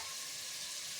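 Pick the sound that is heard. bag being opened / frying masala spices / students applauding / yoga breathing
frying masala spices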